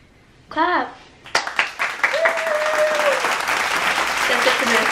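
A short spoken voice gives way to a few crisp hand claps that quickly build into continuous applause, with a faint voice heard beneath it.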